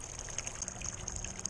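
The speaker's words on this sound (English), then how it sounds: "It is definitely pumping water." Water gushing through the small channels of a pool pump, a steady rushing flow with a high hiss, close and continuous throughout with no talk.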